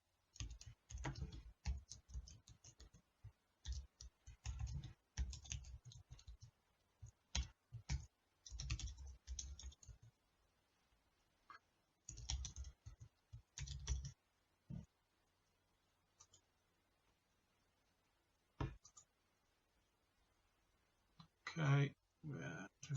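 Computer keyboard keys clicking in quick bursts while a password is entered during a Visual Studio admin setup, rapid taps separated by short pauses, with a voice talking between the bursts.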